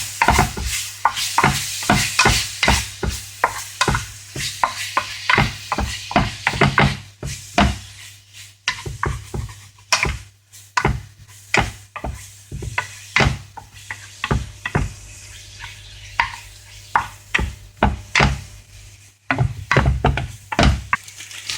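Ground meat fries in a pan while a utensil keeps stirring and breaking it apart, giving steady sizzling with repeated loud scraping strokes across the whole stretch.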